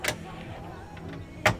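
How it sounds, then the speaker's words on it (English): Fridge doors at a yacht's flybridge wet bar open with a short clack, then a quieter rustle and a second sharp click. "if I open these doors"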